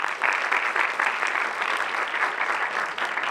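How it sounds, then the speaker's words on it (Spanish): A crowd applauds steadily, a dense patter of clapping hands that stays even throughout. "Un aplauso, por favor."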